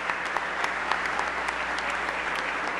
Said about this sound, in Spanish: Fuerte el aplauso para el gobernador de Puerto Rico, Luis Fortuño.